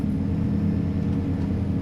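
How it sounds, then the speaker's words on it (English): A 950-horsepower semi truck in Farming Simulator 25 using its compression brake at road speed, a continuous deep, throbbing engine drone that holds loud and even throughout. "Listen to that compression braking."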